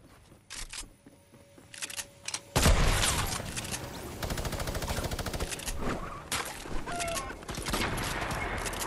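Gunfire in the video game Fortnite, quiet at first, then a dense loud burst of rapid shots that keeps going under game noise.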